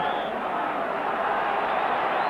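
Large football crowd of around 40,000 at Ibrox Stadium during a Rangers match against Dunfermline, a steady distant roar and murmur filling the stands without clear peaks.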